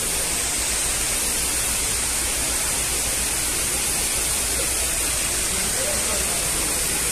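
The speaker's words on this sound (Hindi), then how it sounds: "ये देखिए, यहाँ पानी गिरता हुआ सुहाना सुहाना," Water pours down a man-made fountain inside a Dubai mall, a loud, constant wash of falling water filling the whole space without a break.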